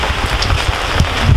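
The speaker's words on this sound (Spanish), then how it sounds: "Ha empezado a llover ahora justo que hemos terminado de desayunar." Rain falling in Uganda near Lake Victoria, a loud dense patter of drops close to the microphone with gusty low rumble mixed in, continuous throughout.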